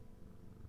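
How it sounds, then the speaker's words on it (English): A cat purring steadily and close, a continuous low rumbling throb with no other sounds. "purring with delight"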